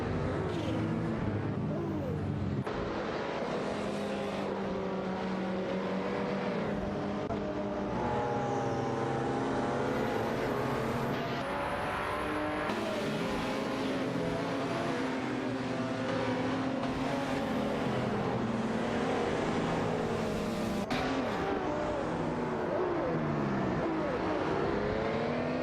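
Race cars in a video game AI race, including a Lamborghini Countach L5, roar continuously with layered engine whines and shifting revs as cars jostle together, loud and steady from start to finish without talk.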